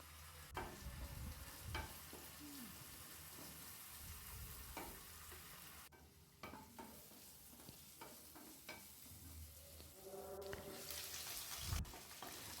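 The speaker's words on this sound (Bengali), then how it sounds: "বিনস আলুটা প্রায় ভাজা ভাজা হয়েছে।" Green beans and potato pieces frying in a wok, stirred with a utensil, give a sizzle broken by scraping strokes and clacks against the metal. A brief run of tap water comes near the end.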